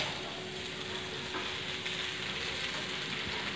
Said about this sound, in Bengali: চাউমিন একটু নাড়ানোটাই কষ্ট, নাড়াচাড়া করতে হয় সব জায়গায়, সস গুলো ভালো করে মেশাতে হয়